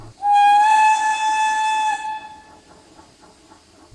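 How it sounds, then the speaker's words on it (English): A steam engine's whistle sounds once, loud and close, a sustained harmonic blast held for nearly two seconds before cutting off into quiet rustling ambience. "And then Atlas's whistle can be heard again"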